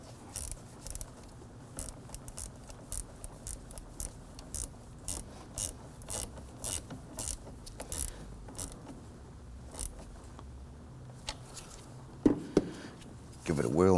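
A ratchet snugging down the battery ground terminal nut on a 2008-2011 Ford Focus, a long run of quick, evenly spaced clicks under a workshop hum, ending in a few louder knocks and clanks.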